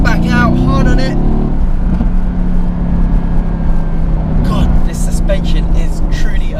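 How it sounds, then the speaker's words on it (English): Mercedes-AMG GT S twin-turbo V8 engine roars loudly at high revs, then drops in pitch with brief blips as the car downshifts under hard braking before pulling away again; someone talks over it throughout. "if you're picking up speed and then you're hard onto the brakes, which we will come to in a second, you can hear that lovely downshift"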